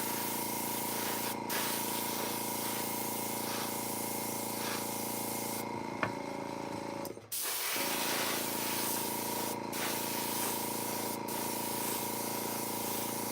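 Spray paint hisses in long, steady bursts as a coat goes onto a toy table, close and continuous with a brief pause partway through, and no speech.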